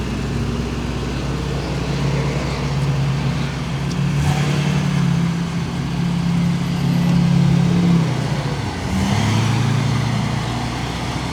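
A 1987 Chevrolet Corvette C4 idles with a low, steady engine rumble and lifts in brief revs, close and fairly loud, with no talking.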